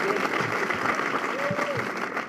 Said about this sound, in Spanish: pido un aplauso por su conducción